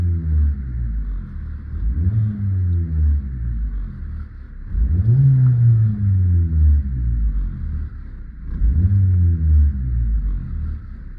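A 2022 Maruti Swift Dzire engine with a worn engine mount rumbles and revs in three swells, each rising then dropping back, with a deep vibrating drone between them and no talk.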